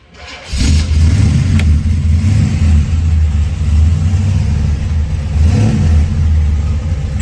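A 1970 Chevrolet Chevelle with a 502 V8 cranks and catches after a brief silence, then settles into a loud, deep, steady rumble with a couple of throttle blips, close to the microphone.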